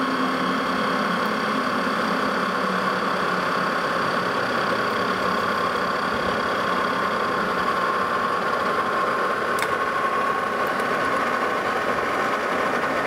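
A machine makes a steady, continuous whirring hum while cutting a leveling screw foot, with a faint metallic tick partway through and no talking.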